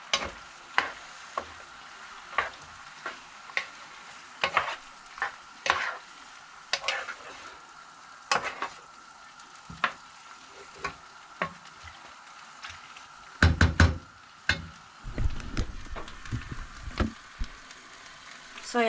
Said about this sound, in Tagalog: Lutuin muna natin mga kaiket.